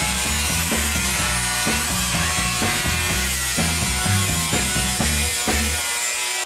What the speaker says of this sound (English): I'm gonna cut a little piece of steel